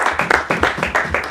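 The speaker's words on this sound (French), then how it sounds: "Une main d'acclamation à notre Dieu." Church congregation clapping together in quick, steady rhythm, about a dozen dense claps in a little over a second, loud and close with a faint voice mixed in.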